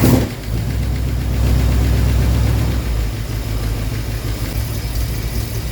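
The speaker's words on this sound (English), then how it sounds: "we had to crank it a little bit, but it looks like it settled right into its nice cold idle the way it's supposed to" A 1965 Buick Riviera engine cranks briefly, catches and settles into a steady, loud cold idle with a low rumbling drone throughout.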